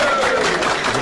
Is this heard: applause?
yes